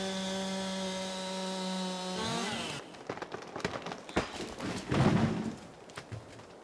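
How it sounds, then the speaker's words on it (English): Chainsaw cutting down a tree in a forestry video game, a steady tonal engine drone that drops off, followed by crackling, thudding clatter of the falling tree, moderately loud with no talk. "So let's go ahead and bring up our chainsaw."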